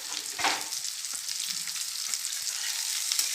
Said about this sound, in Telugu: ఇలా సన్న ముక్కలుగా కట్ చేసుకొని వేయించుకోండి